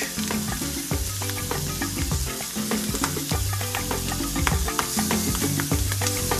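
Squid (chipirons) sizzle and crackle in hot oil in a pan during sautéing, with a loud, continuous frying hiss and occasional stirring clatter while music plays underneath.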